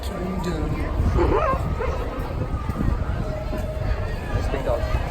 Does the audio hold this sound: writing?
no